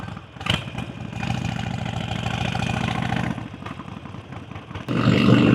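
A Honda Shadow idling alongside other motorcycles, a close, steady rhythmic thumping with a clattery edge, a brief rise near the start, then a louder surge of engine noise at the end.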